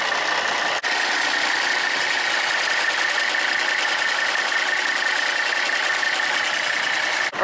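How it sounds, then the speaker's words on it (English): An old Mercedes car engine idles steadily while its fan rubs against the shroud, a constant close whirring drone with a buzzy, sewing-machine-like rasp and a couple of brief knocks. "sounded like the fan was really hitting the shroud"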